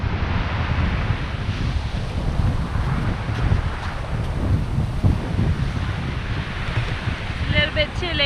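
Wind buffeting the microphone on the Western Australian coast, a loud, continuous roaring rumble with surf washing underneath, steady throughout with no clear talk.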